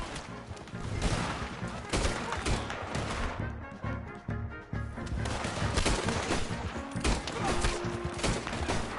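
Dense gunfire from a Red Dead Redemption 2 shootout, with repeated shots and volleys crackling almost continuously, loud and close, mixed with game sound and brief voices.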